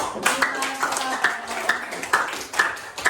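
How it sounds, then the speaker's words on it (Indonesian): A classroom of students claps together in applause, a run of sharp, uneven hand claps carried over by talking voices. "tepuk tangan untuk kita semua"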